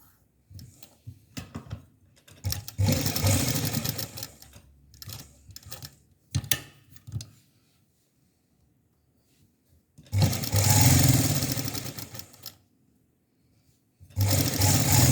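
Close sewing machine stitching organdy fabric for a small doll dress, coming in several bursts of rapid whirring separated by quiet pauses.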